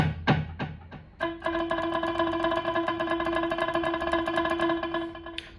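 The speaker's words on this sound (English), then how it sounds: "So one of those two delays, the long one, sounds like this." A guitar note and a few strums through a Zoom G1x Four long delay effect are followed by a sustained tone with long repeating echoes that trail on for several seconds.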